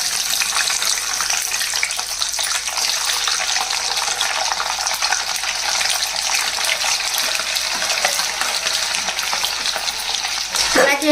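Peeled garlic cloves fry in hot oil with mustard seeds in a pan while being stirred for an old-style tomato pickle, giving a loud, steady sizzle close by throughout with a brief clatter near the end.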